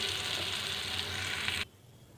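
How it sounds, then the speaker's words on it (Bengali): Mango pieces fry and get stirred in hot oil for a tart mango dal, producing a close, dense sizzle that runs steadily and then cuts off abruptly near the end, leaving a quiet room. "একদম ডাইরেক্ট আমগুলো না দিয়ে আমগুলো একটু তেলে নাড়াচাড়া করে নিলে ভালো লাগে"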